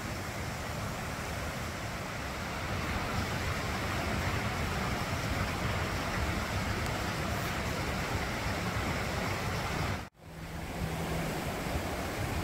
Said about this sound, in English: is flooded out and overflowing. You can see it running here.